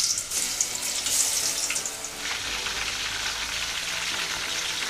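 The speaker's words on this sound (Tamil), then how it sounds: "எண்ணெய் நல்லா காஞ்சதுக்கப்புறம் காளானை கொஞ்சம் கொஞ்சமாக எடுத்து அதில் எண்ணெயில் சேர்த்துடலாம்." Marinated mushroom pieces for mushroom 65 drop into hot oil and deep fry with a loud, dense, continuous crackling sizzle that rises and then settles into a steady hiss.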